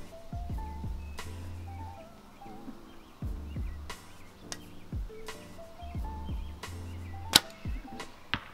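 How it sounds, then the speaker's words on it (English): A single arrow fired from a Mathews VXR 31.5 compound bow at a 70-yard target, heard as a sharp release snap amid faint outdoor ambience with scattered low thumps and rustles. "I'm going to risk it and just shoot one from 70."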